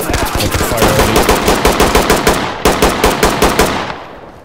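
Rapid automatic gunfire in the tactical shooter game Ready Or Not, a loud sustained burst of evenly spaced shots, briefly broken then resuming, with no talk over it.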